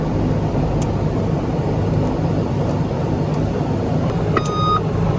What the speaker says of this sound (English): Now we engage the generator into the jet mode and we are checking that it works as well.